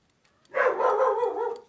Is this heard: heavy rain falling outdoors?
no